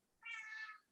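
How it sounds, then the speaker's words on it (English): A house cat gives one short, faint meow, heard alone against a quiet indoor background. "that's my cat"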